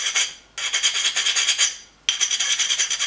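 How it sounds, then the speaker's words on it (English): Diamond wheel scraping down high spots on a flat deburring stone, two long gritty rasping strokes with a short pause between, close and alone. "so I took my crappy diamond wheel and I just ever so slightly"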